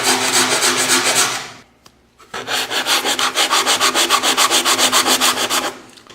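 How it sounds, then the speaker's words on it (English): Sandpaper rubs back and forth on wood in quick rhythmic strokes, a short burst, a brief pause, then a longer run of even scratchy passes. "So just a few strokes with the sandpaper, and now I have a perfectly round and perfectly smooth hole"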